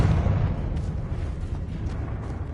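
A Confringo explosive spell from the Hogwarts Legacy video game sets off a loud rumbling blast at the start, and a low roar trails off over a couple of seconds.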